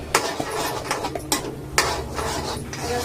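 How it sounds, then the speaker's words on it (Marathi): Spices for a spicy fish curry sauté in a pan, stirred with a utensil that scrapes and taps against the metal in uneven close strokes over a soft continuous sizzle. "हे सगळे मसाले मी परतून घेते."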